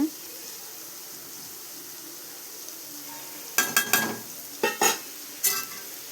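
Chili powder being mixed into nalli kaai pickle, with a faint hiss at first and then a cluster of sharp scraping, clicking stirring strokes in short bursts near the end, close and otherwise quiet.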